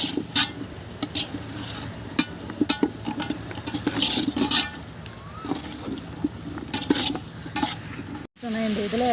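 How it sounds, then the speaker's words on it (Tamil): Mushrooms added to a pot for traditional-style mushroom biryani fry with a close, lively sizzle, broken by repeated stirring scrapes and clatter of a spoon against the pot. "இப்போ வந்து காளான் போட்டுடலாம்."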